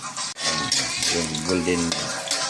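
Onion and garlic fry until golden brown, giving off a dense, steady sizzle with the occasional scrape of stirring. One brief dropout interrupts it, and faint voices may sit underneath.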